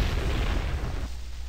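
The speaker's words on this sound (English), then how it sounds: "That was a cooler explosion than normal." A Minecraft explosion: a single loud, dull boom that fills the low end at once and then rumbles off, cutting to quieter ambience after about a second.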